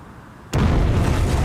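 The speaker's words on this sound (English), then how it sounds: "a massive explosion is about to rip through the heart of the bustling shopping area" A bomb explosion in a busy shopping area, heard from a nearby garage as a sudden loud blast that jumps out of quiet and continues as a sustained, heavy rumbling roar.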